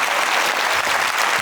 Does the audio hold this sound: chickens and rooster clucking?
no